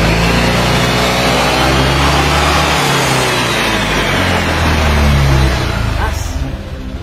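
Honda Click 125 scooter with a racing CVT setup revving hard, a loud sustained high-rpm engine drone close by that dips once and then eases off near the end.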